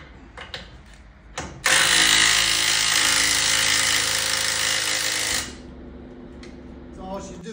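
A DeWalt 20-volt impact driver tightening a fastener lets out one loud, sustained rattling hammer burst of about four seconds, close up, with brief handling noises before and after.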